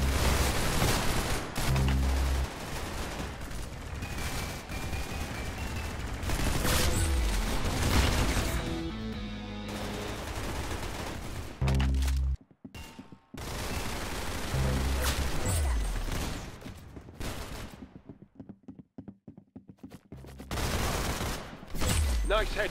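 Dense gunfire from the shooter game Arsenal crackles through most of the stretch in rapid volleys and bursts, with short gaps and booming impacts, while players talk over the action.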